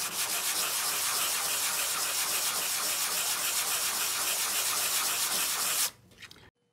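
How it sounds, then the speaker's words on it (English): A Canon PG-260 ink cartridge being sanded by hand, a close, steady rasping scrub repeated in quick strokes for several seconds before it stops abruptly. "What you want is you want to sand until you cannot see the groove."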